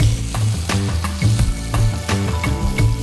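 Beef tournedos steak searing in a hot pan, a loud close sizzle with a regular pulsing pattern running through it.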